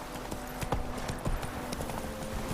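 A horse gallops in The Witcher 3: Wild Hunt, with rapid, rhythmic hoof clip-clops close and fairly loud over a low steady background.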